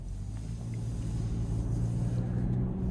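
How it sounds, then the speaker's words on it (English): A 2026 Toyota Camry XSE with all-wheel drive cruising on the road, heard from inside the cabin as a steady, low engine and road rumble with no talking. "starting the test drive in this Camry XSE with all-wheel drive, this thing has got some pep in its step"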